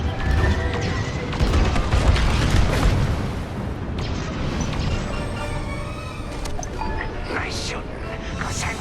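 An Imperial cruiser exploding in Star Wars: Squadrons, a loud, booming blast with crashing debris that rolls on and slowly fades under continuing space-battle noise and radio chatter.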